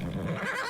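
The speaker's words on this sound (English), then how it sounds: "So if you click on that, a horse will pop out like so." A horse in the survival video game Icarus lets out a short, loud whinny as it appears, a brief wavering neigh heard alone.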